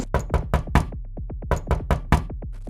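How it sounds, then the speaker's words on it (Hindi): Heavy knocking lands on a room door at night in an animated horror story. Two loud, rhythmic volleys of about ten sharp knocks each follow close together, with no talk. "इतने में उसके कमरे के दरवाजे पर भारी दस्तक हुई"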